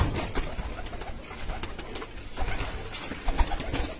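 Soft pigeon cooing against a busy background of rustling and flutter, fairly steady throughout with no one talking.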